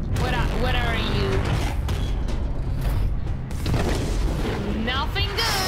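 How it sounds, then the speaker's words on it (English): A large explosion in a shooter-looter video game booms loudly amid continuous game noise, rumbling and mechanical clatter, with a person talking over it. "Big explosion."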